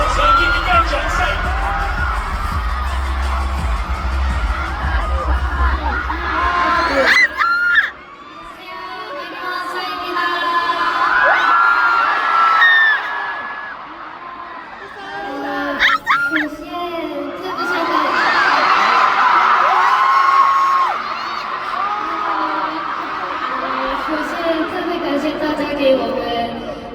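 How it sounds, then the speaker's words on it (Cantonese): Loud crowd cheering, screaming and applause at a 2026 TIMA awards ceremony for BABYMONSTER, sustained in swelling waves with brief dips, dense and close. "送上熱烈嘅掌聲。"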